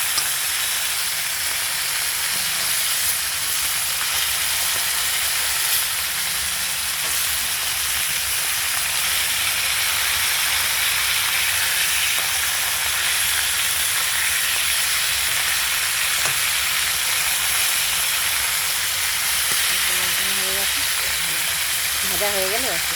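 Fish fry in hot oil in a pan, giving a loud, dense, continuous sizzle and hiss that runs unbroken for the whole stretch, with faint voices coming in briefly near the end.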